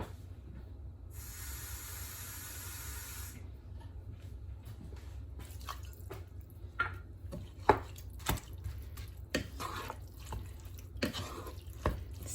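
Water pours into a pan of rinsed lentils for a lentil bolognese, a brief hissing splash followed by scattered faint drips, taps and light sizzling close by.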